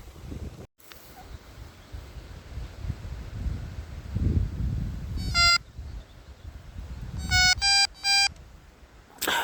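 Electronic carp-fishing bite alarms at a lakeside emit short bursts of high beeps, one single tone and then several quick separate beeps, over soft wind noise and faint outdoor rumble.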